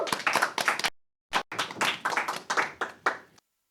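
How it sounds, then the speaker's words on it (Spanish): A few pairs of hands clap in quick bursts, stop for a short moment, then resume in uneven, fading claps. "La recibimos con un fuerte aplauso."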